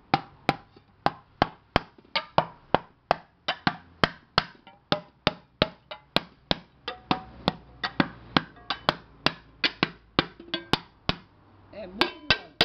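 Hammer blows on the soft aluminium lid of a pressure cooker, dozens of sharp metallic knocks in a fairly regular rhythm, close and loud, with brief pauses between some strikes.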